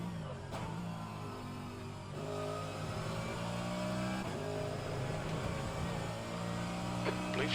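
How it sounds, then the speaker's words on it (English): A faster-class race car in rFactor2 at Road America roars steadily close by, its engine pitch climbing through gear changes as it approaches and passes, loud and continuous throughout. "There's a faster class car approaching."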